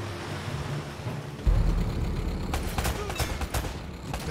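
Bursts of rapid gunfire crackle over a rumbling, noisy soundscape in Uncharted: Drake's Fortune, with several sharp shots clustered near the end.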